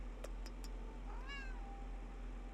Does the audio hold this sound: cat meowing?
yes